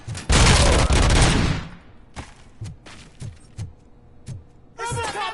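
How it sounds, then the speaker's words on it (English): Robocop's gun opens with a loud, dense burst of rapid fire, followed by several separate sharp single shots spaced apart, and then a voice shouts at the end. "shoot him in the face!"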